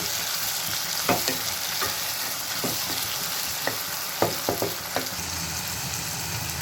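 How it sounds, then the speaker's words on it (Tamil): Chopped tomato is stirred into onions fried golden brown in a pan for a watermelon-rind kootu. A steady sizzle runs throughout, with scattered scraping clicks from the spoon and no talk. "இப்போ டொமேட்டோ ஆட் பண்ணிக்கலாம். நல்லா மிக்ஸ் பண்ணிக்கோங்க."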